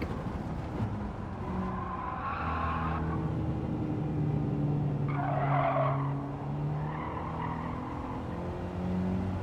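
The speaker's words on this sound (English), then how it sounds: "Stand on the brake." A Mercedes 190 E 2.5-16 brakes hard, its tires squealing and skidding in a few rising bursts over a steady engine hum.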